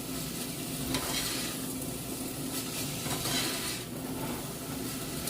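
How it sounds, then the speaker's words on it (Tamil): Crushed chilli and hand-torn curry leaves are stirred into carrots frying in a pan, producing a loud, continuous sizzle overlaid with rhythmic scraping and clinks of a utensil. "ஆட் பண்ணிவிட்டு நல்லா மிக்ஸ் பண்ணி விடுவேன்"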